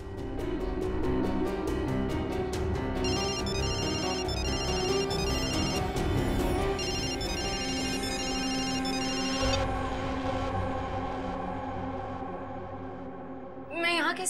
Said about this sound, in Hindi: पायल का ये फोन, इसका रिंगर, ये ट्रिगर है।